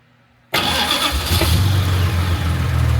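After a short quiet moment, a classic Jaguar MKII's engine cranks and catches at once, settling into a steady rumbling idle close by.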